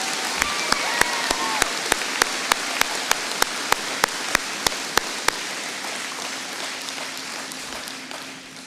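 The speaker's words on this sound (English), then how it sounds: "Can we have a round of applause for all of our special award winners?" Applause for special award winners at a graduation ceremony, a steady, dense wash of clapping from the gathered crowd with sharp single claps standing out at a regular rhythm early on, fading slightly toward the end.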